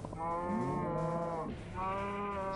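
Cows lowing in Minecraft on a farm-animal herding trip, two long overlapping moos with rich harmonic tone, loud and close, the second following a brief dip after the first.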